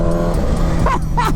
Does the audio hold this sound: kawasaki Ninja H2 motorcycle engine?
yes